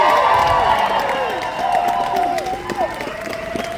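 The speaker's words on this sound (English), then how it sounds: "can we also get a round of applause for my whole crew behind the scenes that you're not seeing?" A live festival concert crowd cheers and applauds for the crew, steady broadband clapping mixed with whoops and voices, loud and sustained throughout.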